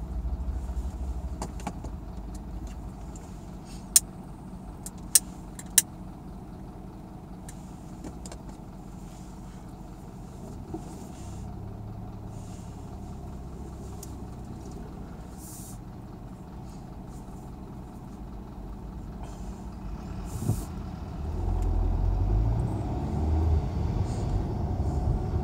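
A car rolls through the streets of Mannheim's Käfertal and Waldhof districts, heard from inside as a steady low engine and road rumble, with a few sharp clicks and a slight swell near the end.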